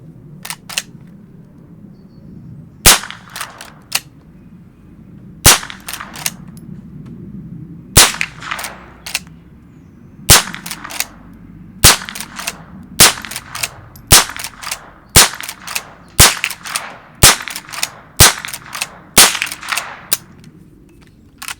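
A Savage Revel Classic lever-action rimfire rifle fires twelve sharp, loud shots at a 25-yard range, evenly spaced about a second or two apart, with soft mechanical clicks of the lever between rounds over a low outdoor hum.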